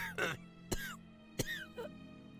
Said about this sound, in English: I can hear someone coughing more than is natural